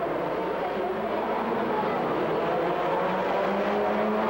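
Race cars at the start of a 15-lap final race, a dense, continuous roar of several engines revving and accelerating together, steady and fairly loud at a moderate distance.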